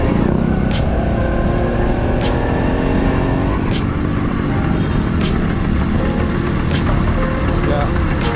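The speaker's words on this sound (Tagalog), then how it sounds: "Traffic eh. Mga sasakyan." Steady road traffic in a busy city street near a shopping mall, with cars and trucks passing close by, heard from a small 49cc two-stroke motorized bike; a continuous loud engine and tire roar with occasional louder passes, and speech under the noise.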